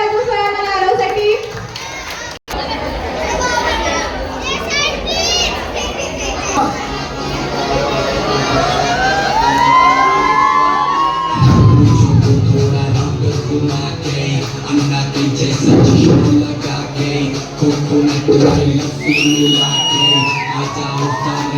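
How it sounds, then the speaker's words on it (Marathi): An audience at a cultural fest whoops and cheers loudly, children's voices shouting among the crowd, with a surge of noise midway as people applaud and call out. "जोरदार टाळ्या वाजवा स्वयं आणि आरवसाठी."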